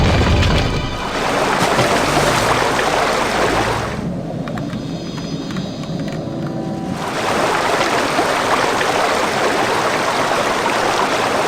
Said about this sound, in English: Sometimes the water is way too loud in this game